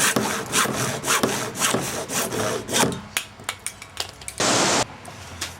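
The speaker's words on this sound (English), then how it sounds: "I want to take my 3/4 inch pipe and I want to cut it just short enough so I can put this elbow on" A 3/4 inch pipe is sawn by hand in quick rhythmic back-and-forth strokes, close and loud, then slower separate strokes and one longer sustained rasp before stopping.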